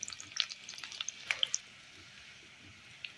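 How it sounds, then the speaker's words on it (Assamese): Onions frying in hot oil in a home kitchen, a soft steady sizzle with scattered sharp pops and crackles, quiet and close with no talk. "পিঁয়াজখিনি অকণমান ভালদৰে ভাজি ল'ব লাগিব"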